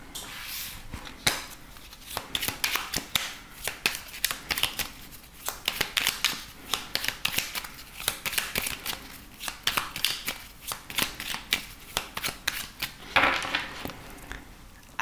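A deck of oracle cards is shuffled and cut by hand, producing steady rapid riffling and flicking bursts with soft taps, close and moderately quiet, with no talk over it.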